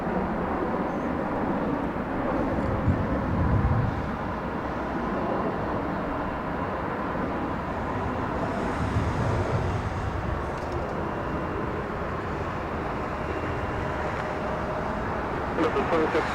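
A KLM airliner departs northward from Los Angeles International Airport, its jet engines producing a steady, broad roar that holds for the whole stretch, with voices heard faintly beneath.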